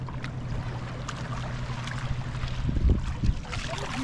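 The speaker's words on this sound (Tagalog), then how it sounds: "Dumaan yung bangka idol, oh." A boat passing nearby on water, a low rumbling motor hum with splashing and lapping water swelling briefly before fading.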